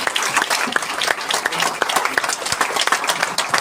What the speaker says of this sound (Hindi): एक जोरदार ताली के साथ स्वागत करेंगे